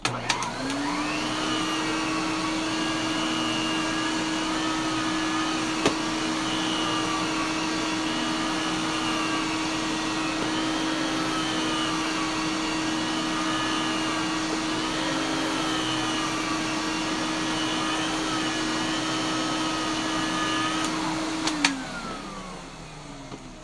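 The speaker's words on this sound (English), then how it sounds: "There's Epic Electrolux running in case you wanted to see it." An Electrolux vacuum cleaner runs steadily at close range, a constant motor whine with a slowly wavering pitch lasting over twenty seconds before it cuts off abruptly near the end.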